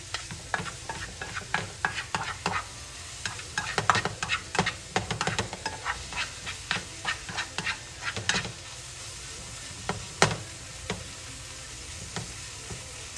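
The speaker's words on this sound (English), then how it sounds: "I'm just waiting for my onions to kind of saute a little bit more." Onions sautéing in a pan for pork chops in a creamy mushroom spinach sauce: a steady close sizzle broken by frequent quick spatula scrapes and taps, busiest in the first half, with no talk.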